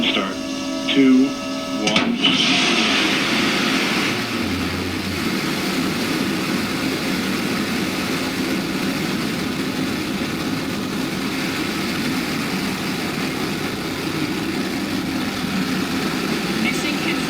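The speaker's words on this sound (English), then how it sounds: "Command engine start. 2, 1." The Blue Origin New Shepard rocket's engines ignite at launch, rising into a loud, sustained broadband roar that holds steady for many seconds, with brief voices and clicks at the start.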